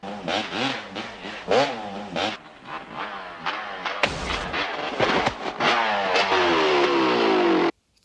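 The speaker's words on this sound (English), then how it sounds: "Suddenly, the henchmen show up on motorcycles." Loud motorcycle engines revving and roaring close by, rising and shifting in pitch as the bikes accelerate, then cutting off abruptly.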